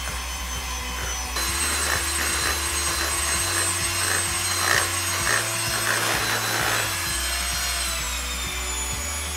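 An electric hand mixer beats margarine, sugar and egg yolk into cookie dough, a steady loud whirring motor with rhythmic scraping pulses and a brief pitch shift, no voices.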